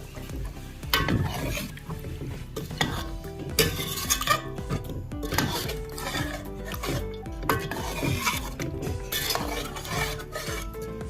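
A spoon scrapes and stirs chicken and spinach curry around a pot in repeated rhythmic strokes, close up, with occasional metallic clinks against the sides.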